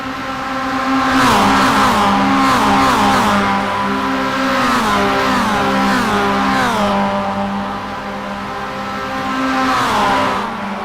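Simworx roadster race cars stream past the pit wall at Phillip Island circuit, engines loud and close, pitch sweeping down with each pass as several cars come through in a tight bunch.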